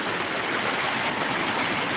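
Strongly flowing water rushes in a steady, loud, unbroken roar with nothing else standing out above it.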